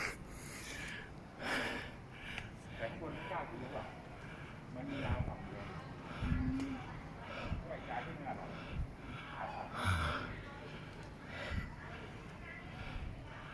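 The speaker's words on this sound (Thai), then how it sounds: "หอบแหกๆ" Heavy, ragged panting from a very heavy hiker who has just reached the summit of Khao Chakan mountain in Sa Kaeo, Thailand, with gasping breaths and snorts close to the microphone amid outdoor background noise.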